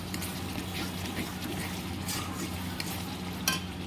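Spice paste for doi katla sizzles in oil in a pan, with soft scraping stirs and a steady low frying hiss throughout, fairly quiet.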